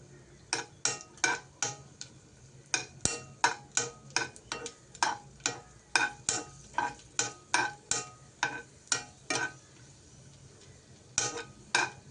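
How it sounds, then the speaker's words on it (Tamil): Cashews and raisins frying in hot ghee for coconut milk semiya payasam, stirred with a utensil in quick regular scraping strokes over a faint sizzle, close and fairly quiet. "இப்போ நம்ம முந்திரி திராட்சை எடுத்து வச்சுருக்கோம். அது இதுக்குள்ளே போட்டு வறுத்துக்கலாம்."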